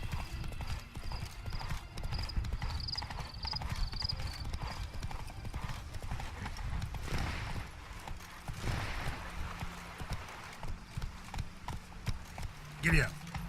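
A horse gallops in the video game Witcher 3: Blood and Wine, its hooves pounding out a fast, continuous rhythm that stays close. A short whinny sounds near the end.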